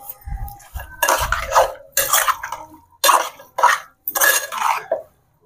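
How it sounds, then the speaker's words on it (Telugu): Water from a small glass is poured into a pan holding chicken curry with oil, onions, green chillies, salt and turmeric, coming as several close, separate splashing bursts with a little pan clatter. "ఇందులో కొద్దిగా వాటర్ అయితే పోస్తున్నాను"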